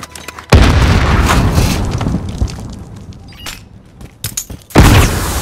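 A stun grenade blasts in Call of Duty: Modern Warfare Kill Confirmed gameplay, a loud sudden boom with crackling debris, followed later by a second loud burst.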